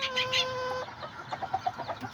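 A mother hen clucks close by in a quick series of short, soft clucks, following a brief higher crowing call at the start.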